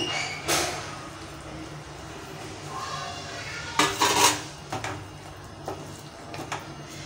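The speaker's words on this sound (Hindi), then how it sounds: "मिल्क पाउडर डालते जाएंगे और इसको चलाते जाएंगे अच्छे से, ताकि इसमें कोई गुठलियाँ वगैरह ना पड़ें" Milk powder being stirred into a pot, with a spoon scraping and clanking against the metal in irregular bursts over a quiet background.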